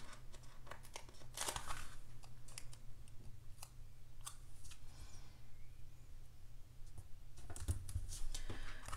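Scissors cutting through paper planner stickers, with sharp snips and crinkling paper handling close by, scattered irregularly over a quiet room background.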